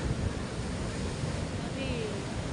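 Large sea waves wash against the shore at night in a steady, broadband roar, with wind buffeting the microphone and faint voices in the background.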